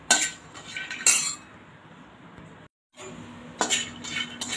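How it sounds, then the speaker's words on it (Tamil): Dried turkey berries (sundakkai vathal) roasting in a pan while being stirred, with clinking metal spoon scrapes against cookware in bursts, a steady faint background hiss, a brief drop to silence, then more stirring clatter. "காஞ்ச சுண்டைக்காய் தான், அதாவது வத்தல், சுண்டைக்காய் வத்தல் தான் எடுத்திருக்கேன். நல்லா ஓரளவுக்கு நல்லா ரோஸ்ட்டாக எடுத்துக்கலாங்க."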